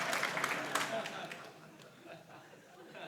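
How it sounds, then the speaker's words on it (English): An audience at a talk applauds, a burst of clapping that is strongest at the start and then fades away, with some chatter and light laughter mixed in. "I might break the record for most applause tonight"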